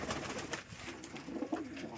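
Rampuri pigeons coo softly in a loft, their low, rolling calls repeating close by against a faint background murmur, with no talking.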